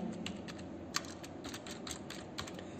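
Keys clatter in a quick, uneven run of light clicks on a computer keyboard, close and steady, with a few sharper taps standing out and no voices.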